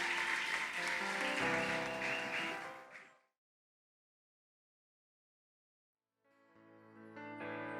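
A church congregation claps in applause, a dense wash of hands over music that fades out abruptly into silence before soft instrumental tones return.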